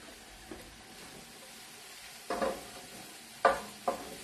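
Onion, garlic and hot pepper sizzle softly in a pan for spaghetti with mussels fra diavolo. A faint, steady frying hiss is broken by a few louder stirring knocks and scrapes.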